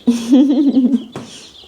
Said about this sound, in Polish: kurczaki